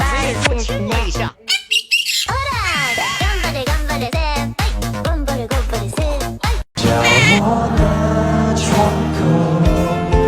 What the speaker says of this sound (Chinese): 真的有小鸟耶，太可爱了